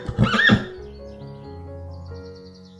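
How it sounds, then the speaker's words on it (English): A horse neighs once, a loud, quavering whinny close up in the first half second, followed by a soft musical tone fading out. "H for horse."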